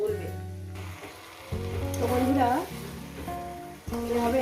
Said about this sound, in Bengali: মিনিমাম তিরিশ থেকে পঁয়ত্রিশ মিনিট এই মটনটাকে কষিয়ে নেব এইভাবে